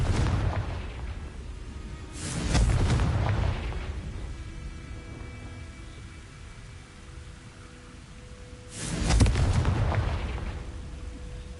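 Confringo fire spell explosions in Hogwarts Legacy gameplay: two heavy booming blasts a few seconds apart, each rolling and fading, over a steady rumbling game background with no talking.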